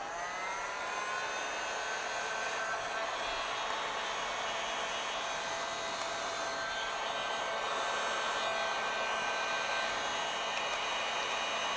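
Heat gun blowing on part of a VFC KS1 gun, a steady loud whirring hiss with a constant high whine that holds unbroken, no voices.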